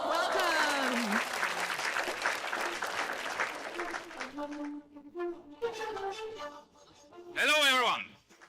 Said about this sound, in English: Let's give a huge round of applause and welcome.